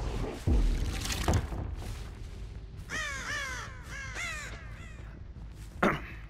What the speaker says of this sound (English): I'm disturbing a lot of crows